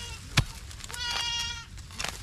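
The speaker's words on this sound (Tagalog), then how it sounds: "Eh mga kambing, naririnig nyo." Goats bleat a few times nearby, short wavering calls spaced apart with soft outdoor background noise between them.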